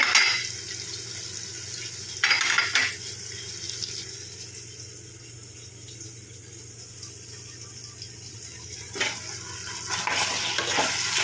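Chilli paneer ingredients with green chilli sauce being stirred in a frying pan, a steady sizzle under scraping strokes of a spatula, with a few louder clatters of utensil against the pan, close and continuous with no talk.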